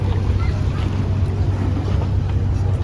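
Ferry boat on the Bosphorus at Ortaköy, Istanbul, a steady low engine drone with water wash and wind buffeting the microphone, continuous and fairly loud throughout.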